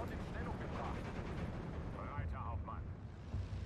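Mortar fire in the WWII strategy game Steel Division 2: dull, rumbling booms and rattling battle noise roll on through a continuous wash, with someone talking over them.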